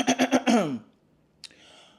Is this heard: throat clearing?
yes